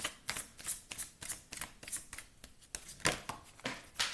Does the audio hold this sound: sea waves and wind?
no